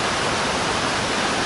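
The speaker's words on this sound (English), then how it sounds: "I don't know if you can hear me because of all this rushing water" A creek's rushing water fills the scene with a loud, steady broadband roar, continuous and unbroken.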